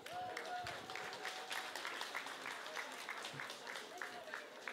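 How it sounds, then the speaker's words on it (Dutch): An audience at a literary winter-night event gives a sustained round of applause, a dense even patter of many hands with faint voices mixed in. "mag ik een daverend applaus voor Brittany Lindo"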